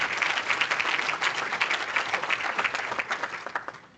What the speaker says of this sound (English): I think probably both deserve a huge round of applause.